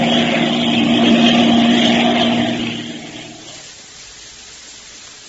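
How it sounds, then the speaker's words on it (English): A crippled propeller airplane circling overhead, a loud droning engine hum that holds steady and then fades into the distance. "Will our friends crash when the pilot tries to land his crippled plane?"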